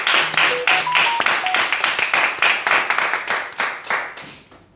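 A church congregation claps for the Lord in a steady, brisk rhythm of loud, even handclaps that carries on throughout, with a few voices briefly heard at the start.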